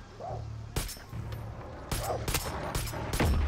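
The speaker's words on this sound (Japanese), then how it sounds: "なんか変な爆撃音がしたんで" Several loud gunshot bursts and blasts in the video game Far Cry 6, sharp cracks at irregular intervals over a low rumbling background, fairly close.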